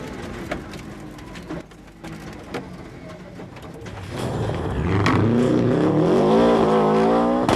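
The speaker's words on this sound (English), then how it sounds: "Tom Spence now owns the Subaru in which Bertie Fisher won so many rallies" A Subaru rally car engine roars closer and louder during a 1997 rally, its revving pitch rising and falling as it accelerates past, with faint background noise before it arrives.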